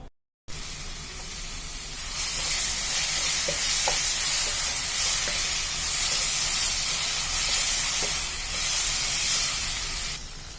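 Tomatoes and onions cooking in a covered pan for squid gravy give a steady, loud, close sizzle and hiss after a brief silent start, with a few faint clicks underneath.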